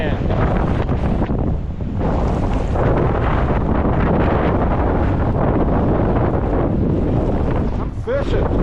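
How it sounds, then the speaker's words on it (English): Roaring, buffeting wind of about 80 mph from a winter storm at a big Virginia lake, loud and continuous with heavy microphone wind noise and surf-like rushing throughout. "Look at that wind."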